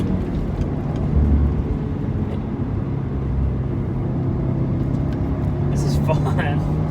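Engine of a 2015 Subaru WRX revving hard through corners, heard as a steady, droning hum from inside the cabin that swells slightly and holds throughout.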